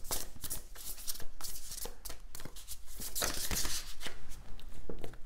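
A deck of reading cards is shuffled by hand in a continuous, close, papery flutter of riffling and sliding cards that lasts throughout, with no voice.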